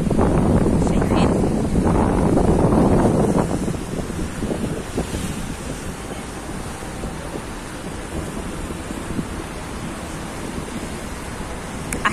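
Sea waves and wind on the Alexandria shore after a storm: loud crashing surf with a roar of wind on the microphone at first, settling into a steady windy wash of waves.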